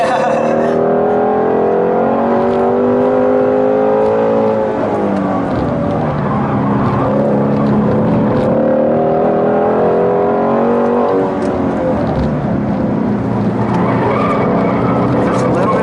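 A 2015 Shelby GT350R takes a track turn at speed, its engine roaring loud and close with shifting pitch and tire squeal through the corner, a voice talking over it.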